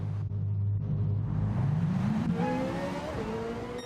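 A Ferrari 458 Italia GT3 race engine in Gran Turismo 7 set to full-power fuel map, revving up through the gears with a loud, rising whine and a brief shift, no talk.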